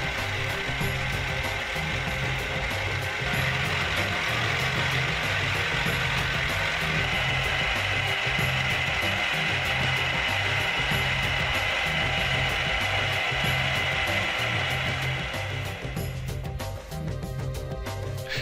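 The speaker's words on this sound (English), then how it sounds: "That's it. Your CNC machine is running." A CNC Baron milling machine from CNC Masters runs continuously, a steady mechanical whir with a repeating geared, ratcheting rhythm and a bright high hum, loud and close throughout with no talk.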